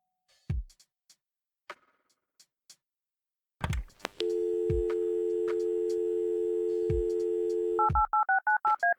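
A room telephone in the Kathy Rain video game rings out a quick series of clicks and short DTMF dialing tones, then a long steady busy signal, followed by a rapid run of alternating beeps.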